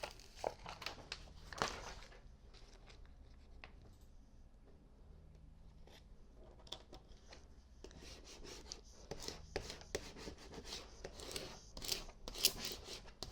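Vinyl transfer tape is peeled back by hand for a bridal shower sign, faint close crinkles and sticky rasping tears in uneven bursts, mostly quiet between them.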